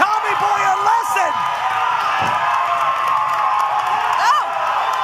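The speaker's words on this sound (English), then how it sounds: "Listen to this crowd." A wrestling show crowd at OVW Thanksgiving Thunder cheers and whoops loudly and steadily throughout, with a commentator talking over the noise.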